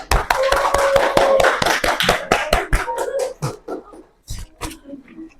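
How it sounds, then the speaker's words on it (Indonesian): A small group in a classroom setting gives a round of applause: rapid, fairly close hand claps that thin out into a few scattered claps, with a faint voice in the background. "Kita kasih aplaus."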